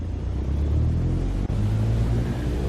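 A light aircraft in Microsoft Flight Simulator 2020 throttles up for takeoff from Douglas, Wyoming, its engine a loud, steady low rumble that swells slightly.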